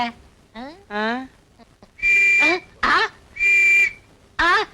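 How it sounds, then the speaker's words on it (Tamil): A whistle blown in short, shrill blasts within a Tamil comedy scene, several loud steady tones alternating with spoken voices. "அப்புறம் ஏன் விசில் ஊதுற?"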